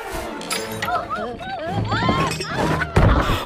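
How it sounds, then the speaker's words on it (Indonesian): Tableware falls and shatters in an animated scene, with a few sharp clinks and breaking crashes heard under lively talk and music. "Karena Mulan hilang keseimbangan, semuanya pun jatuh pecah"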